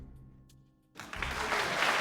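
Spectators applaud during a billiards match in a video game. After near-silence with a faint tone, the applause bursts in abruptly and swells into a loud, sustained clapping from the crowd.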